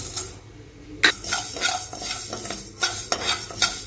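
Mustard and fenugreek seeds roasting in a pan on a low flame for mango pickle, with scattered sharp crackles and pops mixed with spoon stirring and scraping against the pan, close and moderately loud.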